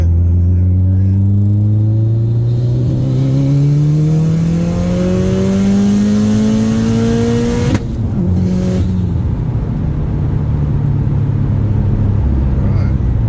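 A 500 WHP Subaru engine on a dyno climbs in a steady rising rev through a third gear pull, loud and close, then cuts sharply near the top and settles back to a lower rumbling idle.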